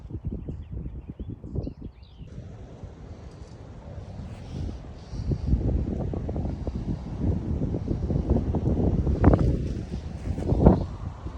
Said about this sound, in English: That wind is blowing like crazy.